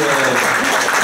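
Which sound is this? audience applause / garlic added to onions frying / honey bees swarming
audience applause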